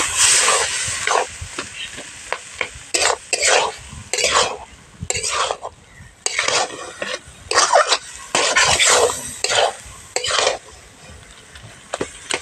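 Malabar spinach being stirred and mashed with dal in a pan gives repeated bursts of scraping and soft sizzling, a ladle working in irregular strokes with brief pauses, close and fairly loud.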